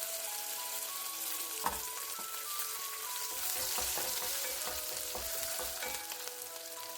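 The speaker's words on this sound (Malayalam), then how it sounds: "അതിലേക്ക് നമുക്ക് അരിഞ്ഞു വെച്ചിരിക്കുന്ന വെളുത്തുള്ളി കൂടി ചേർക്കാം." Chopped garlic sizzles steadily in a hot pan with chillies while a brinjal and tomato curry is being made, with occasional light clinks of stirring over the constant frying hiss.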